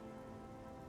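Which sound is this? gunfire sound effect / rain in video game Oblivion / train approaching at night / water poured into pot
rain in video game Oblivion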